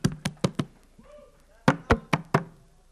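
Knuckles rap on a hard surface to imitate a knock at an office door: four sharp, close knocks, a short pause with a faint voice, then four more in quick succession.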